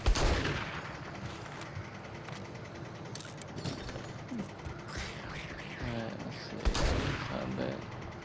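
Shotgun blasts in the zombie survival game 7 Days to Die during a horde night, several sharp reports scattered over steady game noise, with voices talking in places.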